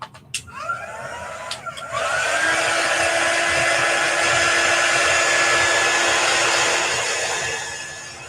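A hair dryer quickly drying a chalk craft sign switches on after a few brief clicks and whirs steadily at close range, then starts to wind down near the end.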